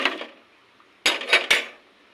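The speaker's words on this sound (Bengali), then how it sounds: "এই যে এখানে আমি দিয়ে দিলাম, নেড়ে চেড়ে সুন্দরভাবে" A spoon clinks and scrapes against a pot of milk tea sweetened with zero-calorie sweetener, with a soft rustle at the start and then three quick metallic knocks close up, and no voice.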